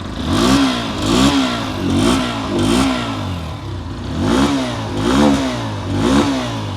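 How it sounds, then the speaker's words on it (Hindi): A Bajaj Pulsar 125 motorcycle engine idles close by and is blipped in a series of short revs, its exhaust note rising and falling in a steady rhythm. "ये देखिएगा आइडियल कंडीशन पर इंजन साउंड पहले से काफ़ी ज़्यादा रिफाइन मुझे फील हो रहा है।"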